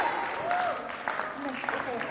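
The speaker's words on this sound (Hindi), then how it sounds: "जोरदार तालियां छोटे बच्चों के लिए" Guests applaud the little children after their song at a Haldi wedding celebration, a moderate burst of clapping running under a talking voice.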